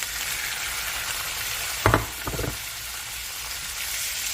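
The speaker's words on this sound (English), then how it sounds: "Next, you want to add your pork chops that you've cut into bite-sized pieces." Bite-sized pieces of pork chop sizzle in a hot pan with a steady frying hiss, and a brief clatter of stirring or food being added sounds near the middle.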